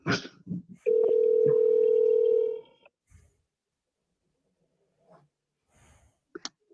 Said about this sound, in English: Should I just let it keep ringing?